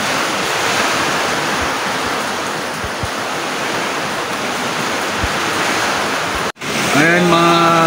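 Strong typhoon wind roars with crashing waves in a dense, loud continuous rush, broken by a brief dropout near the end.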